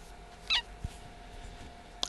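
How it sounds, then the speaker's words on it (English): A house cat meows indoors, two short, faint cries about a second and a half apart against a quiet room background, with a soft knock between them. "The cat's running out."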